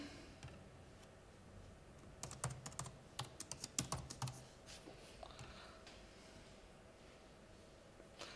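Someone types on a computer keyboard in a quiet room, with a short cluster of soft key clicks in the middle and sparse taps before and after.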